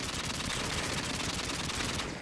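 Silenced mini Uzi in a Call of Duty game firing a rapid, continuous rattle of muffled shots that runs loud and steady, then cuts off at the end, with no voices.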